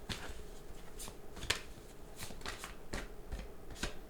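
Tarot cards shuffled by hand to draw another card, with soft, close riffling swishes and light slaps in an irregular rhythm, fairly quiet and without speech.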